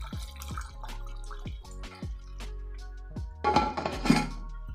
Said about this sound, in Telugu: ఇప్పుడు దీనిలో కొంచెం నీళ్లు వేసుకోవాలి.